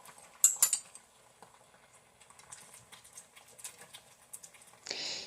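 Leftover potatoes and Manwich sauce are tipped and scraped into a pan, scattered soft patters and clinks of a spoon against metal, then a short rush of sizzle at the end, close and unvoiced.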